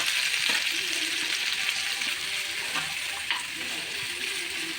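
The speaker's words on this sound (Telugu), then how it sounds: "పచ్చిమిరకాయలు వేసుకుని వేయించుకోవాలి." Green chillies frying in a pan of hot oil during home cooking, giving a steady, continuous sizzle throughout with faint clinks and stirring.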